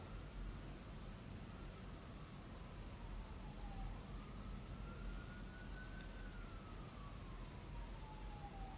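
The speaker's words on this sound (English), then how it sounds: "You can actually hear the sirens in the background." Distant sirens, heard from inside an old jail building, wail faintly in long rising and falling sweeps over a steady background hiss, with no talking.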